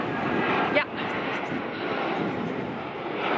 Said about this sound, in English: Airplane coming.